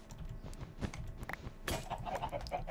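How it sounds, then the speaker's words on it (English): Chickens clucking in Minecraft, several short blocky game clucks scattered close by over a busy background of game sounds, with a louder burst of activity toward the end. "Why are there so many chickens in here?"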